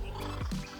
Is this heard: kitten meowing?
no